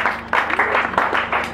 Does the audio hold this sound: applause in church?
yes